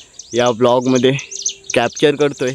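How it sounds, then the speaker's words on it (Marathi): A bird calls with short high chirps on a Konkan village morning, heard close and clear while someone talks over it. "इथे एक पक्षी ओरडतोय"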